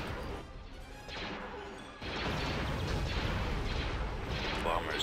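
Turbolaser fire in the Star Wars Empire at War space strategy game, repeated heavy blasts and crashing booms over a dense rumbling background, with a voice talking underneath.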